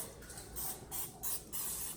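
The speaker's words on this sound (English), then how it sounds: "I still like to use the spray" Short hissing bursts of cooking spray, about four quick sprays in a row, fairly quiet and close with no talking.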